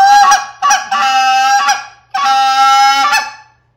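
A handheld goose call blown as an advanced comeback call in the field, three loud, drawn-out nasal honks with short breaks between them, close and alone.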